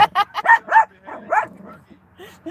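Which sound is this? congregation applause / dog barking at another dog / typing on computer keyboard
dog barking at another dog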